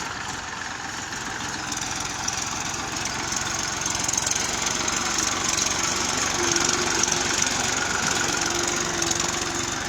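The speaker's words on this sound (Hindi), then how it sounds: "लगातार ये फसल को नष्ट करने में लगे हुए हैं ट्रैक्टर।" Tractors plough through a standing wheat crop in a field, a loud, steady diesel engine drone with rough knocking and crackling of crushed plants, continuous throughout with no speech.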